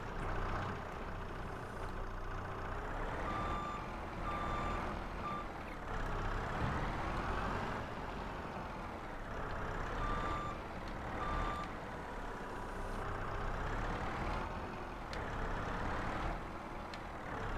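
Reversing beeps from a truck in the Farming Simulator 22 video game repeat in short, steady pulses over a continuous loud engine rumble, with no talk.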